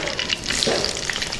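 Chopped onions dropped into hot oil with tempering spices for moong dal sambar sizzle loudly and densely at close range for a brief moment, with no talking.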